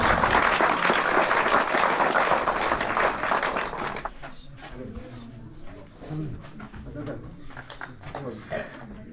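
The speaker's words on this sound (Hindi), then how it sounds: "एक बार फिर तालियां।" Applause for prize-winning students at a school in a mountain village in Azad Kashmir fills the first few seconds, then thins into scattered claps as a voice speaks over the fading noise.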